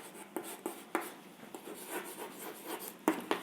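A pen scratches across paper as a sentence is written out, with soft rubbing strokes and a few sharper taps, close and quiet, without any talking.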